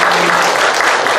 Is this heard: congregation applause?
yes